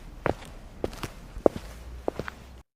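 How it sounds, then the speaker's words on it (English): Footsteps outside a house walking away in a story, four or five slow, calm, evenly spaced steps, fairly close and distinct over a quiet background. "I heard footsteps outside."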